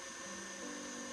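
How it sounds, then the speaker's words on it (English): A stand mixer whips butter in its mixing bowl, giving a steady, even motor whine that holds throughout without pause. "Put the butter into the mixing bowl of the stand mixer and start whipping."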